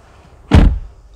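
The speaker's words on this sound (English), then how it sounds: "Again, very heavy doors." Heavy armored door of a 2019 Mercedes GLE 500 Guard shutting, a single loud, deep thud close by, with a short resonant decay and quiet before and after.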